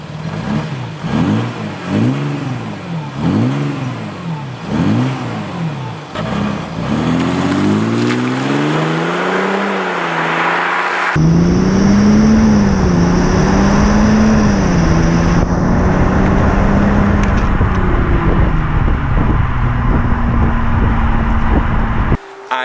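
Mercedes E350 CDI V6 diesel with the rear muffler removed, loud exhaust heard close through repeated revs, then a sustained drone under acceleration and a steadier cruise tone, no talking.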